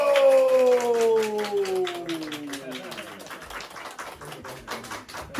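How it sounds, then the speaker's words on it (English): Applause at the close of a live property auction at 7A Lloyd Court, Blackburn South, a dense patter of clapping beneath a fading descending tonal sweep, with talk around it. "Big round of applause, team"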